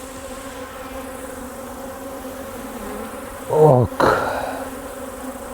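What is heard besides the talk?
honeybees buzzing around an opened beehive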